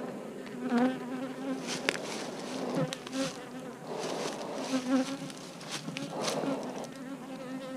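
Bees buzzing around open beehives, a fluctuating close drone of many insects with individual bees swelling and fading near the microphone, fairly faint overall.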